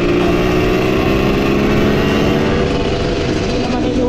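A motorcycle engine runs steadily and loudly close by for the whole stretch, a continuous drone without pauses, on a group ride in Zambales.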